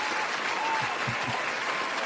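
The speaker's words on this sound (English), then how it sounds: "Oh, a round of applause again." A round of applause during a sports podcast recording, a short, fairly faint wash of clapping that sits under a thin layer of background sound.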